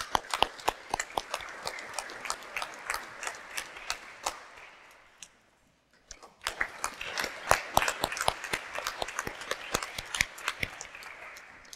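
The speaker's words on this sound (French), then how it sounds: "Quand on applaudit les amis, n'oublions pas d'applaudir aussi Paul-André" A church congregation claps at Sunday mass, crisp scattered individual claps in an uneven rhythm that briefly die away midway, then resume with renewed spirit.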